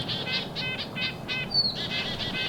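Chickadees call repeatedly in cold morning woods during a Maine archery deer hunt, short bright chirps and buzzy notes coming in quick bursts over a steady airy background, fairly close and loud.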